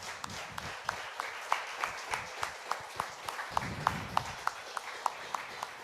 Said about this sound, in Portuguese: Você pode aplaudir ao nosso Senhor